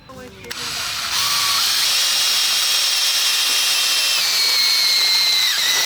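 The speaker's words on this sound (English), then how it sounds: "I have managed to make this bracket with drilled holes for the bolts" Power drill boring bolt holes through a metal bracket during a van water tank repair, a steady high-pitched whine building after a brief start and running continuously at close range, with slight pitch shifts under load.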